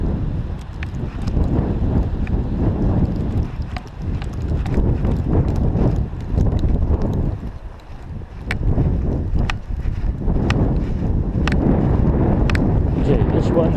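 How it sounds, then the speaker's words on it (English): A strong northeaster in a snowstorm buffets the microphone with loud, gusting low roar and rumble, easing briefly midway before surging again; a voice speaks in places under the wind. "Hopefully you can hear me above the wind noise. Got a real northeaster blowing here."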